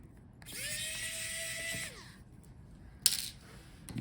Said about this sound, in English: So unscrew these two screws.